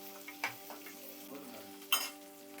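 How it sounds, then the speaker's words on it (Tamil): Chili powder, dried chilies and chana dal sauté in oil for a tomato kuzhambu, with a faint sizzle under a couple of sharper stirring scrapes. "இப்போ பார்த்தீங்கன்னா நல்லா வதங்கிடுச்சு பாருங்கள் கடலைப்பருப்புலாம் நல்லா வந்து செவந்து வந்துடுச்சு"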